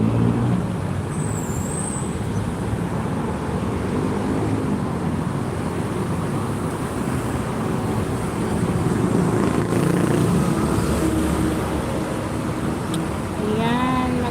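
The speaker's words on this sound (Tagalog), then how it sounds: "Ayun, ang dami sasakyan yun." Steady stream of road traffic with many vehicles passing continuously, a broad engine and tyre rumble filling the scene, with a brief hiss like an air brake partway through.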